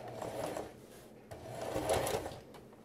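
Close, moderately quiet sewing machine stitching a seam on a garment, a continuous whirring run with slight surges and dips in speed, no voices over it.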